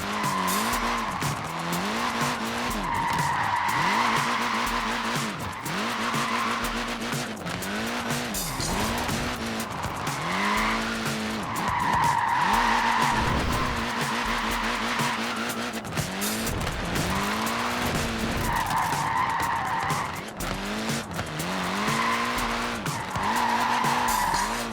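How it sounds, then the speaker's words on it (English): Sustained tyre squeal from a small, short-wheelbase front-wheel-drive car with tiny wheels sliding in Forza Horizon 4, a loud continuous screech under a revving engine that rises and falls in repeated waves. "Look at that, laying down some rubber there."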